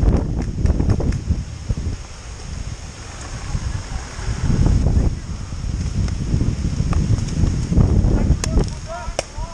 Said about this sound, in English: I can't hit shit with this wind.